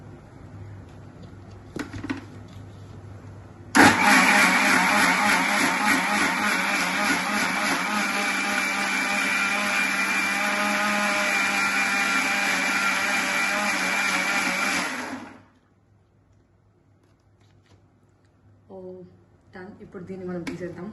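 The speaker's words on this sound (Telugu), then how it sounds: "ఇప్పుడు మళ్ళీ దీన్ని నేను మిక్సీ వేస్తున్నాను." A kitchen mixer grinder blends curry masala with water for a cashew and paneer curry. It starts abruptly with a loud, steady whirring roar, runs for about eleven seconds, then winds down, followed by faint clinks.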